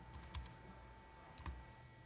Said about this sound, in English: I'm just hitting tab on the keyboard